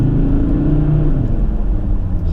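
A 2005 Volvo XC70 2.4 D5 five-cylinder diesel pulls steadily under light acceleration, a deep continuous engine drone with a smooth low rumble heard from inside the car, no talking.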